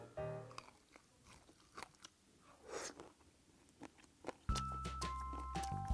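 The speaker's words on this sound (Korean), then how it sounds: "바삭하게 튀기다 보니까 닭뼈도 씹힙니다" Several sharp, close crunches of crisply fried spicy chicken necks, bones and all, spaced irregularly, before a steady musical tone starts near the end.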